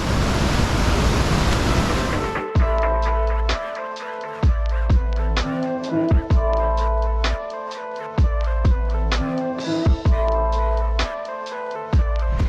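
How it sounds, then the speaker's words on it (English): Roaring river rapids at the Don Khon waterfalls in Laos give a dense, steady rush of whitewater for about two seconds before rhythmic music takes over and buries it. "You wouldn't like to get caught in those rapids."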